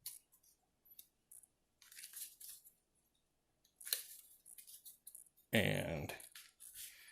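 Magic: The Gathering land cards are shuffled by hand in short papery bursts and riffles close to the mic, ending in a louder cascade, with a brief spoken word.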